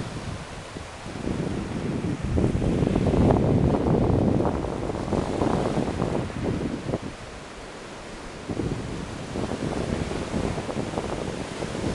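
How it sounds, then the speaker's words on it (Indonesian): Surf rolls and roars onto a beach at Bangko Bangko on an overcast day, broad churning wash rising and falling over about twelve seconds, with wind buffeting the microphone and no voices. "Lihatlah ombak yang menderu-deru."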